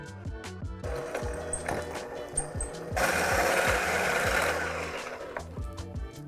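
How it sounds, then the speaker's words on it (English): A stand mixer whirs steadily as it blends blueberry strudel filling with vanilla bean, its motor hum rising louder and rougher for a couple of seconds midway, with occasional knocks of the beater against the bowl. "let's mix it up"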